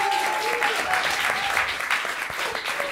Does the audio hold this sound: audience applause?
yes